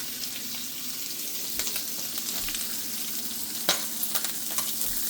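Butter, green peppers and onion sizzle in a pot with a steady crackling hiss, broken by a few sharper pops and faint stirring clinks.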